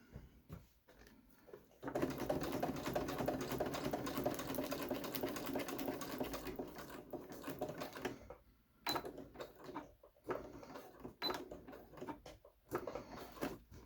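Sewing machine stitching around a zippered fabric bag: a quiet start, then a long steady whirring run of rapid stitches, followed by short stop-start bursts with pauses between them, all close and fairly soft.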